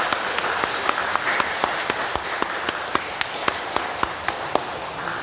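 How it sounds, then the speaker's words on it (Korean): A crowd claps steadily nearby in a church celebration, a dense wash of applause with sharper individual claps standing out at a regular pace. "큰 박수로 환영해 주시기 바랍니다."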